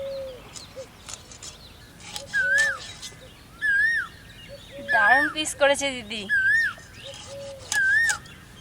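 Morning birdsong in a village while a large boal fish is being cut: repeated bright rising whistles and chirps in short bursts, fairly close, with people talking in between.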